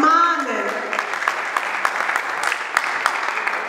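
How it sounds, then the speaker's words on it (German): Audience applauding at a church gathering in Vienna, dense clapping that starts loud and settles into a sustained patter with scattered sharper claps, while a voice briefly carries over the opening. "Lass uns Applaus geben."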